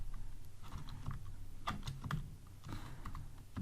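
Close, fairly quiet computer keyboard typing, a quick uneven run of key clicks and thumps that continues steadily throughout with no voices.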